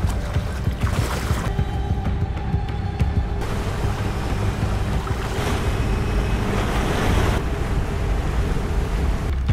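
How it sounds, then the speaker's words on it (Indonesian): Dangerous river rapids leading to a waterfall in a film roar as a loud continuous rush of churning water, with shifting intensity and wind-like buffeting throughout. "Joey sedang prepare karena akan melewati jeram berbahaya yang memiliki air terjun"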